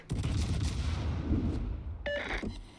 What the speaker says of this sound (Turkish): İlk salvomu gönderdim.